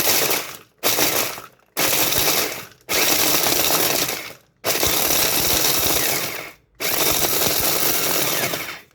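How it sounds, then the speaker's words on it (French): An electric blender grinds almonds into praline powder in loud, harsh bursts, running in about five pulses with short silent gaps between them, each one a dense roaring whir with rattling particles. "je vais mixer tout ça. Voilà, je mixe tout doucement"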